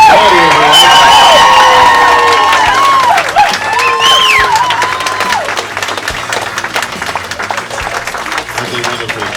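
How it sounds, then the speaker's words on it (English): Wedding guests burst into loud applause and cheering for the bride and groom, with whoops and crowd shouts over steady clapping that eases slightly toward the end, close and sustained throughout. "Let's give them a big round of applause, everyone. Come on, let's make some noise."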